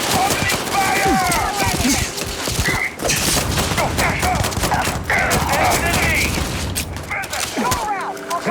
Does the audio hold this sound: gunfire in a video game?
yes